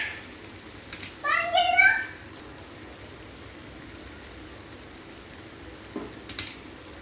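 Salt, turmeric and chili powder are stirred together in a pan for a vegetable dish, giving a couple of brief metallic spoon scrapes and clinks up close, with quiet gaps between.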